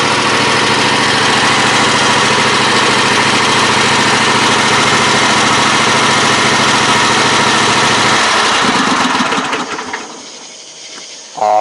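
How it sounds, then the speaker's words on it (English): A White Outdoor riding mower, left sitting for seven years, runs with a loud, steady engine drone up close, then the engine winds down and stops near the end. "We have us a running, riding, and mowing machine."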